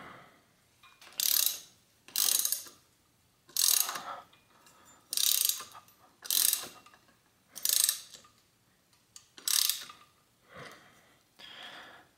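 A ratchet tool clicks in about nine quick, evenly spaced bursts while tightening the crank on a vintage bike being built into a cheap fixie. The bursts are close and crisp, with short pauses between them and no talking.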